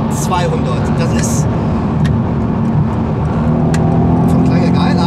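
A Mercedes C63 AMG engine pulls hard under acceleration, a steady loud drone heard from inside the car with a voice talking over it.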